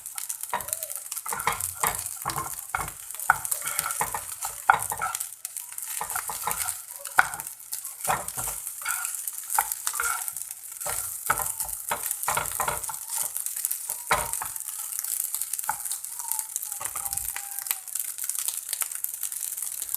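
Fried rice being stir fried in a pan: continuous sizzling with rapid, irregular scrapes and clinks of a utensil against the metal, close and fairly loud throughout.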